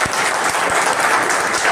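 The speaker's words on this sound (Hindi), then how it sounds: "अगर इस वक्त मैं रफीक मिंबर की सदारत का ऐलान कर दूं तो क्या आप तालियां बजाएंगे?" An audience claps steadily throughout at a poetry gathering, a dense, even wash of applause in a hall with no talk over it.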